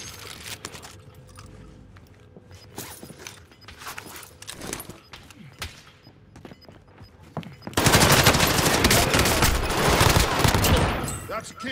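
MP5 submachine gun fire in Call of Duty: Modern Warfare, scattered shots and short bursts amid game noise, then a loud sustained barrage of rapid gunfire that dominates the second half.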